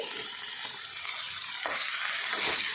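Chopped tomatoes frying in oil in a pan for a squid fry, a continuous close sizzle with a few soft stirring scrapes, steady and fairly quiet, with no voices.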